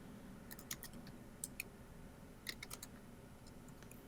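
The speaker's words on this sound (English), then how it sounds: "Kate's doing all the typing because my keyboard is too loud." Quiet, scattered clicking of a mechanical computer keyboard being typed on, irregular clusters of keystrokes over a low background hiss.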